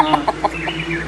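A decoy hen used in a traditional bird trap clucks in a short series of four or five close, distinct clucks with no talking.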